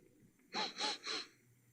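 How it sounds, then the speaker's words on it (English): A man sniffs three times in quick succession, close and clear, at the start of a spoken-word comedy story about a cold ocean breeze; the sniffs stand alone with no talk around them. "That were me sniffing."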